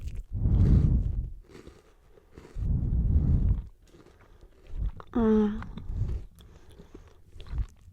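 Close, crunchy bites and chewing of an Ikea Kex chocolate wafer come in several bursts, with soft speech between them.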